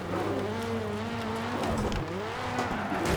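A rally car in the DiRT racing game slides and skids through a narrow section of the Montalegre circuit, engine revving hard with tires squealing loudly and continuously throughout.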